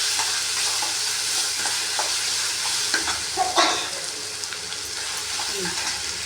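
Grated raw mango being stir-fried for mango pachadi after the ground paste has cooked, a continuous sizzle broken by clattering stirs and scrapes of a spoon against the pan, with a louder burst midway.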